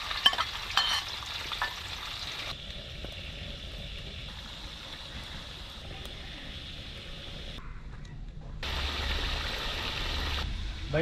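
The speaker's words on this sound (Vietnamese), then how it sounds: "Giờ đi mình cho cá vào chiên nhá." Loach fish fry in a hot pan with steady oil sizzling and crackling throughout, the sound briefly shifting and swelling near the end.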